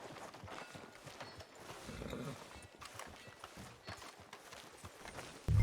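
Horse hooves clip-clopping in the Western video game Red Dead Redemption 2, a soft irregular run of hoof beats on a street, faint and continuous, with a brief louder bump at the very end.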